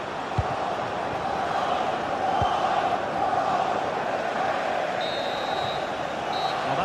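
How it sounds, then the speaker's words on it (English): Stadium crowd roar at a football match in a video game, a dense, steady wash of massed voices around a corner kick, with a couple of dull thumps and a brief whistle-like tone near the end. "Well, just listen to the crowd. They know this is a big chance to equalise."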